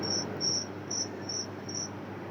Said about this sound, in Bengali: কার বাড়িতে জিজি পোকা ডাকতেছে রে?